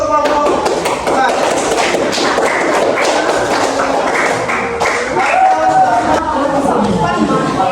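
Applause for a student group at a university session, with a room of people clapping in a dense, quick patter of close, thudding claps that runs steadily throughout with a few voices mixed in.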